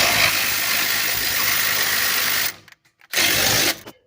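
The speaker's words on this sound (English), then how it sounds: "1/2 inch impact to get it broke loose" A 1/2 inch impact wrench loosens a rusted front knuckle bolt on a 2004 Toyota Sienna, giving a loud, continuous buzzing hammer for a couple of seconds, then a short pause and a brief second burst.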